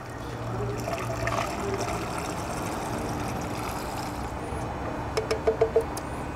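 Cleaning product poured through a funnel into a canister for gasoline direct injection cleaning on a 2015 Mazda 6. A steady liquid trickle sits under broad background noise, followed by a few short knocks near the end.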